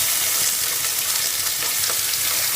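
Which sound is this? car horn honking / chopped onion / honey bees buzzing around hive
chopped onion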